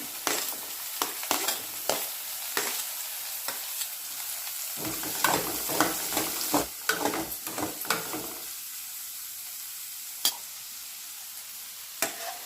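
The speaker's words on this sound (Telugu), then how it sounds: "కట్ చేసిన ఉల్లిపాయలు కూడా వేసుకొని వేగనివ్వాలి" Chopped onions fry in a pan with a bright, steady sizzle, broken up by repeated scraping and clattering strokes of a spoon, heaviest through the middle stretch.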